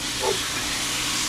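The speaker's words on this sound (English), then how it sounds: "I got a beautiful flap steak that I'm searing wonderfully and perfectly on my 17-inch Blackstone." Flap steak searing on a 17-inch Blackstone griddle outdoors at an RV, a steady loud broadband hiss and sizzle filling the whole short stretch without pause.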